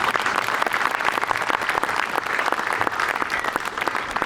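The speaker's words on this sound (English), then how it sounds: "I think that deserves another round of applause" An audience applauds steadily at the Eaglehawk Citizen of the Year 2023 event, a loud, continuous wash of many hands clapping without a break for the full stretch.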